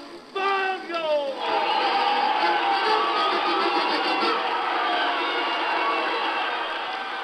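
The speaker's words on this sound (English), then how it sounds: "Hear those cheers, the applause?" A circus crowd on a 1947 vintage Disney record roars with cheering and applause. A rising whoop opens it, then a loud, sustained wall of shouting and clapping continues to the end.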